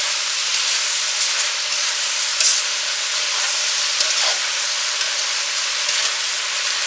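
Button and baby bella mushrooms sizzle and brown steadily in a hot pan, a close, loud, continuous hiss of frying with small crackles and no voices.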